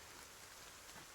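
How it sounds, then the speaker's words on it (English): Steady rain sound effect plays during a tabletop game session, a soft, even hiss of falling rain, very faint and brief with no talk. "I'm glad you can hear the rain."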